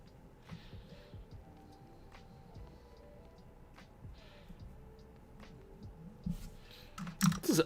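Computer keyboard keys tapped in scattered, faint clicks at an uneven pace, with a louder burst of clatter near the end.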